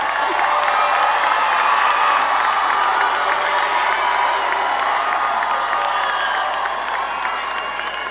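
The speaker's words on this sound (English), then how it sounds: "will the friends and other relatives of our candidates please stand and receive our applause?" A large commencement audience at a Lamar University graduation applauds the friends and relatives of the candidates, dense sustained clapping and crowd noise with scattered cheers, loud and steady throughout.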